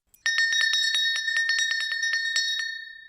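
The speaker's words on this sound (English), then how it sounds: "he would ring a bell on the building" A small bell rings in a rapid series of bright, clear strikes, close and loud, then fades out with a lingering ring.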